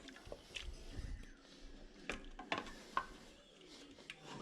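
Chopped garlic and tomato paste are stirred in a cooking pot for beef bourguignon, with soft scraping, squishy mixing strokes and a faint sizzle, close and fairly quiet, no talk.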